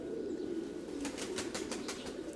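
Pigeons beat their wings inside a large aviary holding around 600 birds, several quick bursts of flapping close by over a steady low hum of cooing.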